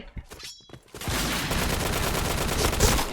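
Rapid automatic gunfire in the Point Blank shooting video game, sparse shots at first, then a dense, continuous burst of loud shots that fills the rest of the clip.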